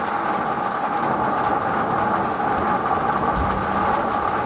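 Heavy rain pours steadily, a dense continuous hiss with a low rumble underneath, loud and unbroken throughout.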